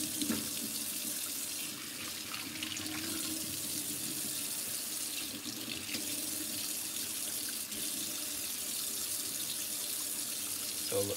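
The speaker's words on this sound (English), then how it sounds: "when you rinse your horn off, you don't want scorching hot water." Steady lukewarm water from a kitchen sink tap pours over a trumpet as it is rinsed, a close, even, continuous splash with slight shifts in the flow and no voices.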